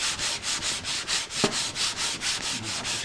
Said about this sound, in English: I'll just keep sanding on it here and see.